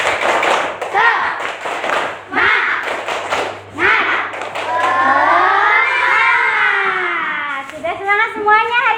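A class joins in a rhythmic ice-breaker clapping chant, with bursts of hand claps and thumps mixed with children's and adult voices chanting along, followed by an adult speaking.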